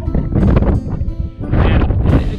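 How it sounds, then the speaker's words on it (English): Loud, gusty wind on a hilltop summit buffeting the microphone in two heavy bursts with a brief lull between, rough and low-pitched. "I think it's really, really windy."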